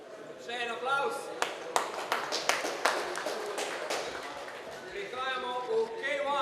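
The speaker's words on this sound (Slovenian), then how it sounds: "Še en aplavz." Scattered audience applause at a combat-sports event's official weigh-in. A few sharp claps ring out between stretches of an announcer talking over a crowd.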